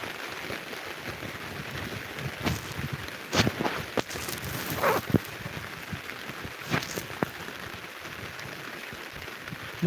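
Heavy rain pours down in a steady hiss, with occasional louder splashes and drips standing out against the constant downpour.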